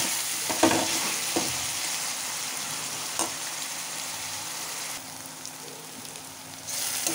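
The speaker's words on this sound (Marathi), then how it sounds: "थोडं 2-4 मिनटं कांदा ट्रान्सपरंट होईपर्यंत शिजवायचा आहे" Chopped onion frying in a pan until soft and translucent, a steady broadband sizzle running throughout with a few brief clicks and stirring knocks, fairly close and without speech.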